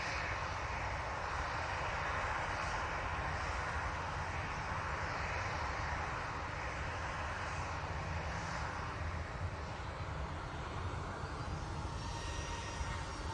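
A TUI airliner at Manchester Airport gives a steady, broad engine roar that holds at an even level for the whole stretch, moderately distant, with no talk over it.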